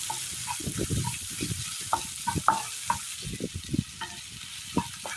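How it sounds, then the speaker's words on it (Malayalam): Crushed ginger, garlic and onion stirring and frying in a pan, with scraping spoon strokes and a steady background sizzle, close and moderately loud. "വെളുത്തുള്ളി ചതച്ചത് സബോള നന്നായി ഒന്ന് വഴറ്റിയെടുക്കാം"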